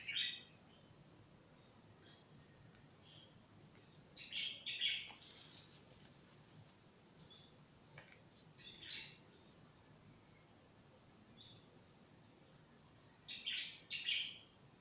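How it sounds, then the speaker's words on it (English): Scattered early-morning bird calls and short chirps in the Gambia ring out at intervals over quiet background hiss, some brief squawks, fairly distant. "y'all can hear the bird sounds more than me."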